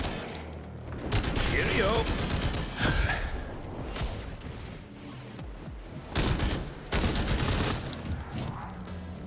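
An LMG machine gun in the video game SYNCED fires in long rapid bursts, loud and near, with pauses between volleys and someone speaking briefly between them.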